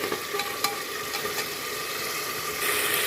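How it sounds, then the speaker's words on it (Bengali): Ground spice paste of cumin and coriander with green chilli frying in oil, a steady close sizzle with a few scraping stir clicks, growing a little louder near the end. "আমি মশলাটাকে একটু ভালো করে লাল লাল করে কষিয়ে নেবো"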